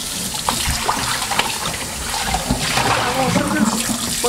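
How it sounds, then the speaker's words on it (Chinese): Tap water runs steadily while soaked dried kelp is rinsed in a sink, with splashing and trickling as the kelp is handled, fairly close and loud. "现在再把它清洗一下，因为这个干海带啊盐分特别的重"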